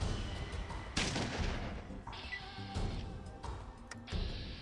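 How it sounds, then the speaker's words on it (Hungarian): Shotgun shells fired at a door in the video game Fallout 2, four or five loud booming shots spaced about a second apart, each trailing off with a metallic ring, no voices. "itt bele lövöm ezeket a rohadt nagy sörétes töltényeket, és még csak meg sem karcolódik az ajtó"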